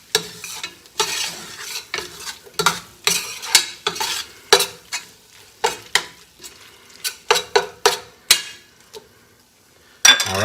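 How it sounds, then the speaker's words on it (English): Red curry paste gets stirred into sizzling vegetables in a pan, the utensil scraping and clinking in repeated rhythmic strokes over a quiet sizzle, close and with no talking. "we're just going to incorporate that in here for about a minute. Get it kind of mixed in with all the veggies."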